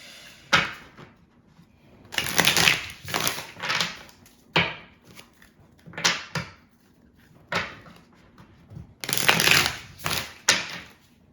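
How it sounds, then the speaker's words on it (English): Tarot cards being dealt and laid down one by one in a cold attic, a series of sharp papery slaps and shuffling bursts separated by short pauses, close and fairly loud with no talk. "I'm going to add a tarot card to each one of these."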